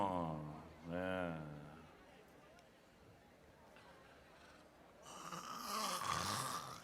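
A pow wow announcer imitates a husband's nighttime snoring with his voice, a few loud, drawn-out rasping snore sounds, close and clear, with quieter stretches between them.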